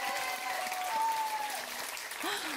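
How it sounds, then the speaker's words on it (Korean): Audience applause at a traditional Korean geomungo concert, steady dense clapping filling the hall for a few seconds, with a faint tonal note and a voice briefly sounding underneath. "큰 박수 부탁드립니다"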